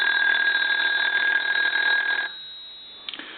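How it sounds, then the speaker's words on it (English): A Princess Crosley telephone's bell, under repair, rings steadily and loudly for about two seconds, then cuts off, followed by a couple of faint clicks. "first I want to ring the telephone"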